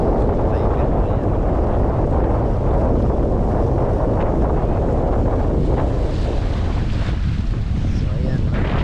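Heavy wind blows hard against the microphone at a seaside restaurant in Cordova, Lapu-Lapu City, with big sea waves stirred up by a low-pressure system. The roar is loud and steady and fills the whole stretch.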